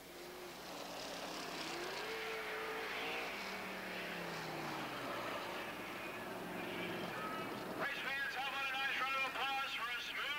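1985 sprint cars at Eastbay Speedway during the Winternationals, engines droning and revving at a distance, partly masked by a public-address announcer talking throughout, with a rising whine of cars near the end.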